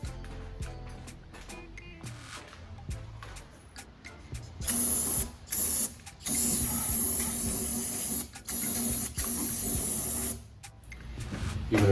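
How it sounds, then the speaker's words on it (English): Cleaner sprayed onto the oil pan gasket surface of a 2004 Chrysler Sebring 2.7L V6, several close, loud hissing bursts of aerosol spray of varying length with short pauses between them. "spray the surface where the gasket is going to be sitting."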